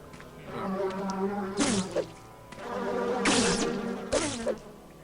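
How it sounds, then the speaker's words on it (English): Loud, droning buzz of video game bees in the game Nox swelling and fading in several waves, close and intense, with no talking. "It's just really loud bees."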